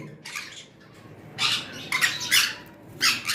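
Two sun conure parrots calling in bursts of harsh, high squawks, loud and close, with quieter chirps between the louder calls and no talking.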